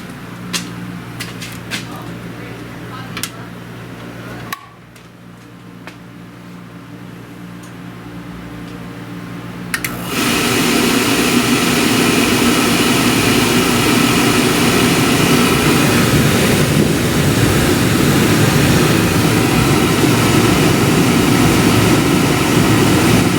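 A new Rheem oil furnace fires up after cleaning: faint clicks and a quieter stretch, then the burner catches with a sudden jump into a loud, steady roar that holds to the end.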